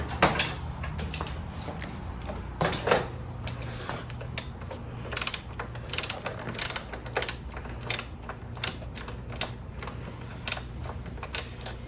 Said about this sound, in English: We're removing the nut, leaving the bolt in.